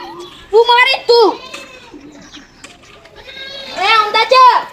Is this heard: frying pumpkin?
no